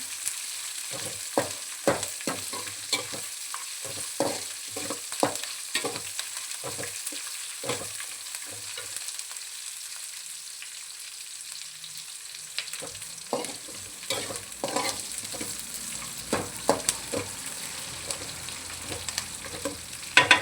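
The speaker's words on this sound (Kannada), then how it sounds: "ಇದು ಸ್ವಲ್ಪ ಬಣ್ಣ ಚೇಂಜ್ ಆಗೋವರೆಗೂ ಫ್ರೈ ಮಾಡ್ಕೊಳ್ಳೋಣ" Chopped green chillies fry in oil in a pan for upma, with a steady sizzle under repeated close scrapes and taps of a spoon stirring, and no voices.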